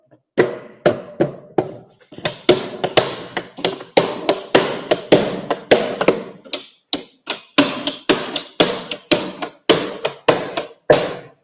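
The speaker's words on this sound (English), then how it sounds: "knock out our staves to get them all flat together." Hammer blows knock wooden whiskey barrel staves flat beneath a hoop, a long series of sharp, close knocks with an irregular but steady rhythm, some blows struck in quick pairs.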